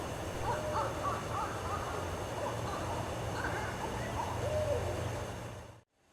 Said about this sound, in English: Now that we know there's a breeding pair of owls here